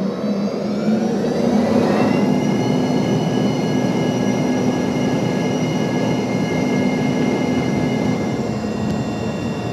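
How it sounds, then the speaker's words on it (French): A TAP Air Portugal jet taking off from Brussels-Zaventem, heard from inside the cabin as a loud, steady engine roar with rising whining tones as thrust builds, continuous throughout. "Et on décolle de Bruxelles-Zaventem et on va à Porto."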